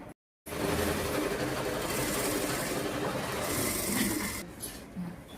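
A sewing machine stitching a fabric triangle for a baby girl's bunny cap: a rapid, continuous mechanical whirring run at moderate volume after a brief silent gap, easing off near the end.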